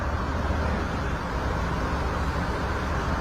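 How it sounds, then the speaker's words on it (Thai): A Toyota Revo pickup's engine idles after a keyless push-button start, a steady low rumble close by with no change in pace and no talking. "รถทำการสั่งสตาร์ทที่เรียบร้อยนะคะ"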